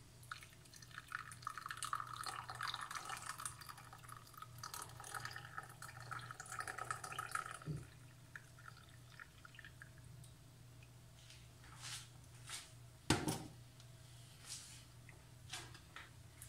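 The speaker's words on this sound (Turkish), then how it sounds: "potumun süzgecini aşağıya doğru iyice bastırıyorum. Ve bitki çayımı bardağıma alıyorum." Herbal tea trickles from a teapot strainer into a glass, a faint steady pour under a low background hum, followed by a few soft clinks and drips.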